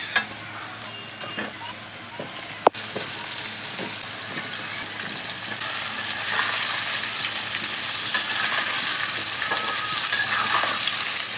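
Mango pieces tossed into spices frying in a pan and stirred, a continuous sizzle that swells after a sharp knock, with faint spoon scraping and no speech.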